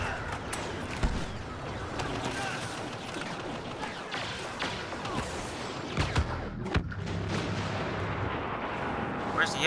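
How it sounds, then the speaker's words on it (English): Orbital strike explosions in Star Wars Battlefront land as a dense, booming barrage of rumbling blasts and crackling impacts, loud and continuous, with a voice talking over it. "Ooh, orbital strike."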